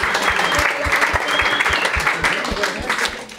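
Loud, close audience applause at the D'ÒC Show in Morlaàs greeting twelve under-14 US Morlaàs rugby players, with a strong, regular rhythmic beat of clapping running under the general patter throughout.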